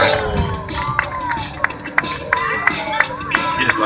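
Spectators at a county fair motorcycle stunt show clap and cheer, a dense crowd wash broken by sharp, irregular claps, with faint voices mixed into the din.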